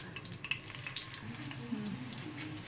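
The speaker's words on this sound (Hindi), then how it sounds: "अब इसमें जाएंगे ये हल्का हल्का सा इसको फ्राई करना है" Beef dum kababs fry gently in oil in a pan, giving a soft, steady sizzle with light crackles, quiet and close, with no talking.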